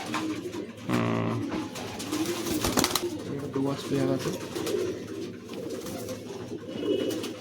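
Giribaz pigeons coo repeatedly at close range at a pigeon sale, soft throaty calls recurring throughout while people talk over them.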